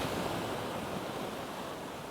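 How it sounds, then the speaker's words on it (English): Big ocean waves wash continuously past a seashore, a loud, steady broadband roar with wind buffeting the microphone, no voices. "let me just steady things as the water goes past me, and here comes another big wave"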